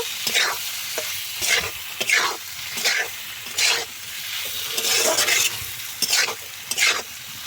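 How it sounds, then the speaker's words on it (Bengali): Pre-fried ash gourd and potato pieces being stirred and sautéed in spiced oil in a pan, with repeated bursts of scraping and tossing every second or so over a constant loud sizzle, close up, no voices. "এরপর আমরা ভেজে রাখা চাল কুমড়ো ও আলু দিয়ে দেব। দিয়ে ভালোভাবে কষিয়ে নেব।"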